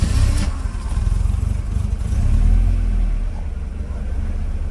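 A car engine with a faulty idle motor is started and settles into a low, steady idle rumble close by, with a faint voice in the background.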